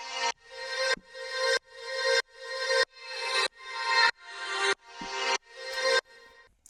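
Pulsing synth chords soaked in vintage reverb on a return track, with automated volume and stereo width, swell in ten rhythmic bursts that each rise and cut off sharply, with a softer tail at the end.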